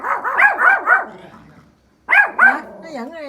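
A small Pomeranian barks outdoors in two rapid bursts of sharp, high yaps, close and loud, with a short pause between and a whimpering tail at the end.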